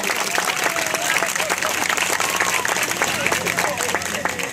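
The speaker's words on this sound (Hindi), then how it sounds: "तो मैं चाहूंगा कि आप सभी एक और बार तालियों के साथ उनका अभिनंदन करें।" A crowd claps steadily throughout, a dense wash of applause with no clear pauses, filling the space at moderate loudness.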